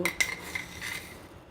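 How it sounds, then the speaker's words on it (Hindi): A metal spoon clinks against a pan while sugar is tipped in for an orange ice cream sauce, giving a few light, close taps in quick succession with no talk. "उसमें ये मैं 5 चम्मच चीनी डालूँगी।"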